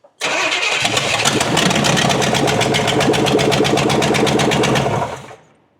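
Studebaker engine with open exhaust cranking and catching, then running at a loud, rough, rapid-pulsing idle for about five seconds before cutting off and dying away.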